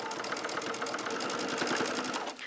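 A sewing machine stitches a Lone Star quilt seam, a fast, steady mechanical rattle of needle strokes running continuously and close up, slowing briefly at the end.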